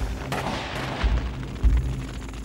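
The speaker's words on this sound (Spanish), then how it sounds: "Enseguida comenzamos a oír disparos de mosquete y vimos llamas." Musket gunfire as a sound effect: a sustained rumbling barrage with a few heavier booming reports standing out, dense and fairly loud, with no talking.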